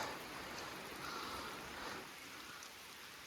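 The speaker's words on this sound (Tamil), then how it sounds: "மழை வந்துட்டு இருக்கு." Steady rain falls in a Western Ghats forest, a faint, even hiss of drops on foliage continuing without a break and with no voices.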